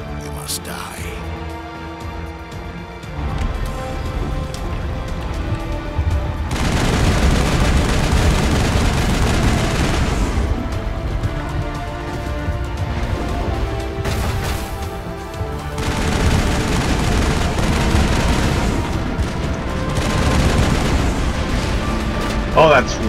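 Gunfire and explosions in the Mass Effect video game, with loud, dense bursts of shots and booms set against a game soundtrack, while a voice talks over the din.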